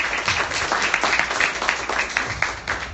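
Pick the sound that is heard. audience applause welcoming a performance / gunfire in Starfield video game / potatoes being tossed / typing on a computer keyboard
audience applause welcoming a performance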